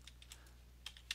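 Keystrokes on a computer keyboard as a web address is typed in, a few quick taps near the start, then a pause and a final short burst of taps, close and quiet.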